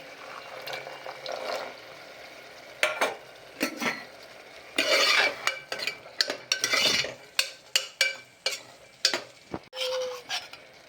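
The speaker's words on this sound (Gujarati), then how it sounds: "હવે તેને મિક્સ કરી દઈશું" A spoon stirs a salted curry of green peas and muthiya in a metal pan, making repeated close scraping and clinking strokes with soft wet sizzling in between. The pace is irregular and picks up toward the end.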